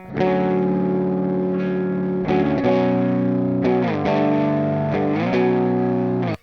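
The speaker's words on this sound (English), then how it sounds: "without that overdrive patch, it sounds really clean" An electric guitar strums sustained chords with a lightly gritty, slightly broken-up clean tone from a Line 6 Helix with no overdrive, a few chord changes, no voices.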